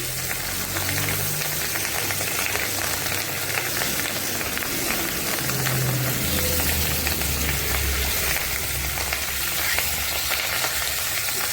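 Catla fish pieces and fish roe frying in very hot oil, a loud, dense and continuous sizzle full of crackling spatters that runs steadily with no talking.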